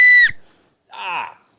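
A single sharp, high whistle blast, short and loud, cuts off abruptly, followed after a pause by a brief voiced sound.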